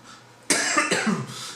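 One person coughs a couple of harsh times, close to the microphone, right after a short quiet pause in a Portuguese spoken reading and commentary.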